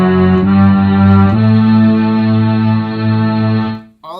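Bass guitar playing a D pentatonic scale through an Electro-Harmonix Mel9 orchestra effect, a couple of long held low notes with lush orchestral harmonics, loud and close, ending with a brief break.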